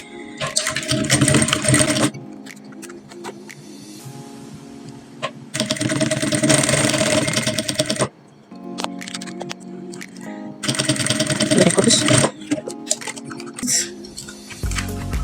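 A sewing machine stitches corset bust caging in bursts of rapid mechanical rattling, three loud runs separated by quieter pauses filled with small handling clicks and clatter.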